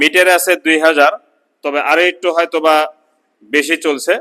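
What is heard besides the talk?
No everyday noises stand out.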